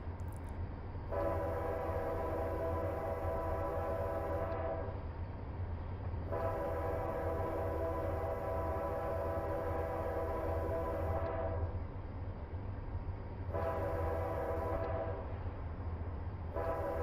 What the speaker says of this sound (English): Uh-oh, whistle.